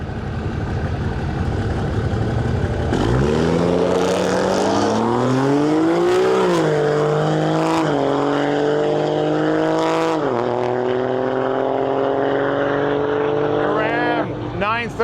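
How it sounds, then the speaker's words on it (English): A big Cummins diesel four-wheel-drive regular cab long box truck at a Canadian drag race, roaring up in pitch as it launches and climbing through several gear shifts, loud and close, with a voice talking underneath. "Big Cummins diesel pulling up the line next here, 4-wheel drive truck."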